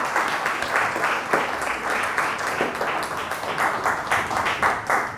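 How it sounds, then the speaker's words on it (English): Audience applause for a team walking to the front at an enterprise challenge launch event, steady sustained clapping from a crowd lasting throughout with no talk over it. "Give them a big round of applause as they come to the front."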